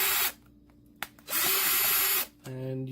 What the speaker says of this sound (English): So these controllers have 5 screws, so we'll unscrew them.